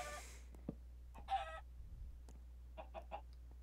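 Chickens in the Minecraft game Nfinit Skyblock give several short clucks and squawks spaced irregularly across the moment, faint and alone with no speech.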